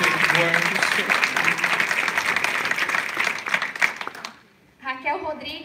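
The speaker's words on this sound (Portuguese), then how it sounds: "Vamos aplaudir a Luciana Silva." Audience applauding for Luciana Silva at a book launch: dense, steady clapping for about four seconds that then cuts off, followed by a voice speaking.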